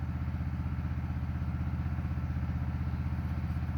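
A DC generator's engine runs at a steady idle, a close, even low-pitched throb with a regular pulsing chug and no other sounds.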